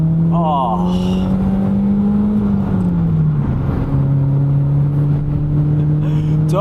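A BMW Z3 engine pulls hard in second gear, its loud, close drone climbing steadily in pitch, dipping briefly at a shift, then holding a steady note, with a voice briefly over it.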